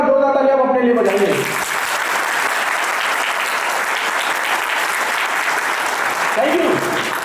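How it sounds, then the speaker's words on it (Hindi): An audience breaks into loud, sustained applause that starts right after a voice cuts off and fills the rest of the moment as a dense, even wash of clapping. "तो अगर समझ गया तो 2 तालियां आप अपने लिए बजाइए।"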